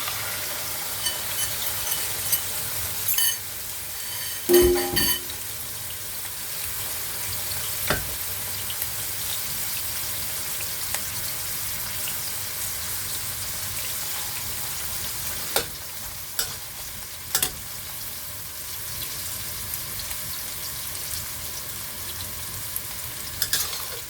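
Eggs and shrimp stir-frying in an oiled pan for Singapore-style noodles, a continuous close sizzle with intermittent scraping and clanks of a spatula against the pan, no voices.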